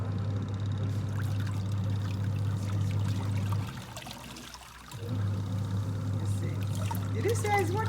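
LG manual top-loading washing machine running with water, a steady low motor hum with sloshing and pouring water that briefly pauses midway, while a person talks over it.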